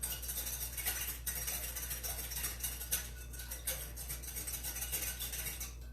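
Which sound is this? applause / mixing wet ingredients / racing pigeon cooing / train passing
mixing wet ingredients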